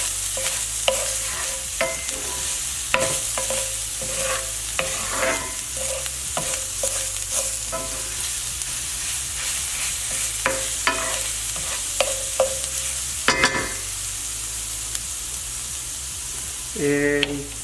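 Stir-frying chicken in a hot pan for a sweet honey chicken dish with snow peas, with steady sizzling and repeated scraping of a cooking spoon against the pan, close and continuous.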